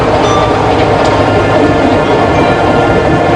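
Constant loud rumble and rattle of a train rolling along the rails, steady throughout with no voices.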